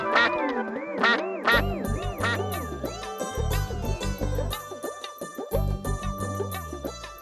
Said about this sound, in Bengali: একটু প্যাক প্যাক করো না।